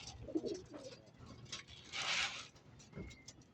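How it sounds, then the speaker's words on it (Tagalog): Pigeons at feeding time coo in a few soft, low bursts, with a brighter flutter of wing or feeder noise in the middle; fairly close and moderate in level, no talking. "gutom na itong aking mga ibon na babae"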